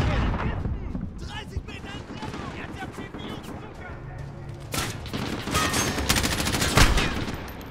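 Grenade blast and heavy gunfire in Call of Duty Modern Warfare: bursts of rapid automatic fire with booming impacts that build toward a loud peak near the end, while a player talks over the combat.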